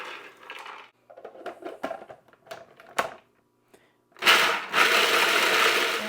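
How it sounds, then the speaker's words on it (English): A food processor whirs loudly and steadily through a batch of pecans for a pie crust after a few scattered clinks and knocks, the motor roar filling the last two seconds. "I'm going to place 1 3/4 of a cup of pecans into my food processor"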